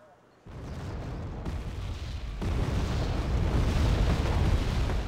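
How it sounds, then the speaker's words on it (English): Rocket strikes destroy a Challenger tank in the Wargame: Airland Battle video game, a loud sustained explosive rumble that swells a moment in and grows heavier partway through, with no talk. "I don't manage to get the Challenger out of there before it gets blown up with the last couple of rockets"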